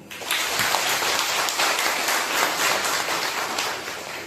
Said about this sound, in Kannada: ಆ ರೈತನ ಒಂದು ಚಪ್ಪಾಳೆ ಬರಲಿ.